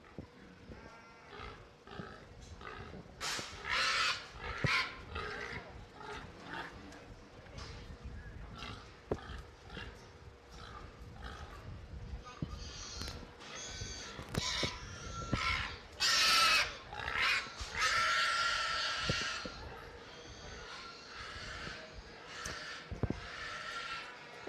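Pigs at a Fremont County fair swine show grunt, squeal and snort over a steady crowd murmur and the clatter of the show ring. A louder burst of squealing comes partway through. It is all at mid distance, and no words stand out.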